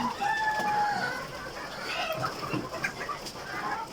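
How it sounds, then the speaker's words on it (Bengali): Egyptian Fayoumi parent-stock hens cluck and call in a poultry house, with a rooster crowing among them; the birds sound fairly close and carry on steadily through the whole stretch with no talk. "এগুলো আমাদের প্যারেন্টসের মুরগি"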